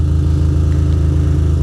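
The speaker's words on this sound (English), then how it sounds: "I hate sitting here at a red light revving." A Ducati motorcycle engine running while stopped at a red light in New York City, a close, loud, steady mechanical drone throughout.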